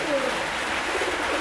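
A tritis corona racing pigeon coos softly and steadily in a close, noisy setting, low murmuring calls running through the whole moment with no talk.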